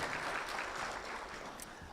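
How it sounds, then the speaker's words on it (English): Audience at a launch event for an electoral justice compendium gives a round of applause for the Chief Justice, a steady, fairly faint wash of clapping that holds for the whole two seconds with no talk over it. "I think we need to give a round of applause to our Chief Justice."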